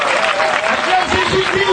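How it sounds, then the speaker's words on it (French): A congregation at a French-language Christian prayer gathering cheers and claps for Jesus, a dense roar of voices and hands with shouting mixed in throughout. "Acclame Jésus!"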